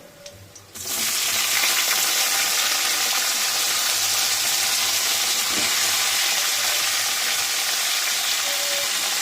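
Bitter gourd drops into hot oil with nigella seeds and green chilli, bursting into a loud, steady sizzle after a quieter first second that keeps on unbroken, close by, with no one speaking.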